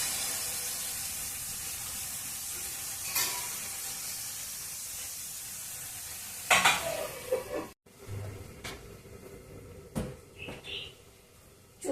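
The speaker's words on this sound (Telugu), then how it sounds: "టమాటాలు కొద్దిసేపు బాగా మగ్గనిద్దాము." Tomatoes stewing in a pan give off a soft, steady sizzle, broken by a few clinks and scraping stirs of a spoon against the pan toward the end.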